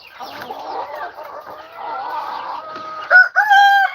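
Farmyard hens cluck steadily in the foreground while a rooster crows loudly near the end, several birds overlapping with no voices.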